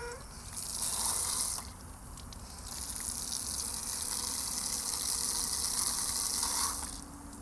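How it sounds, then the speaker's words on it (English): A garden hose sprays water onto a plastic hamster wheel, giving a loud hissing gush that rises and falls in bursts as the spray shifts, with no talking. "So there it is, wheel versus hose."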